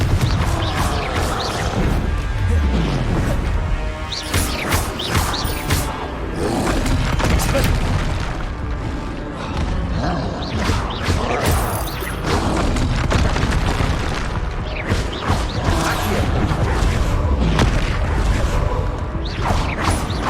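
Repeated Confringo blasting-spell explosions in Hogwarts Legacy boom and crash in quick succession over a busy battle, with whooshes and impacts filling the whole stretch.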